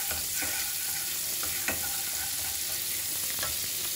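Green chillies and ginger frying in a pan for Mughlai dum aloo, a steady hissing sizzle up close with a few light taps of a stirring spoon, no voices.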